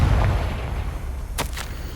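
A Confringo fire spell cast in the Hogwarts Legacy video game lands as a deep booming blast that fades into a rumbling tail, then a few sharp crackling bursts follow, loud and close.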